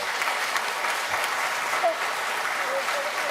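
Congregation applause for two children at their b'nai mitzvah service, an even, sustained patter of many hands clapping at moderate level with faint background voices.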